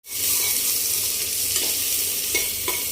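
Onion and ginger tempering frying hard in a hot pan, a loud steady sizzle close to the microphone with a few stirring scrapes, no talking.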